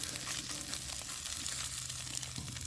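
Scrambled eggs fry in a pan on a homemade camp stove built from a propane tank, with a steady, close sizzle and a low flame roar beneath, fairly quiet and unbroken, with no talking.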